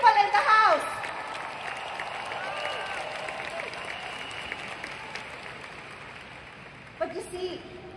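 Audience applause in a seminar hall after a call to applaud successful people, a broad wash of clapping that swells briefly, fades gradually under the room, with a voice speaking at the start and again near the end.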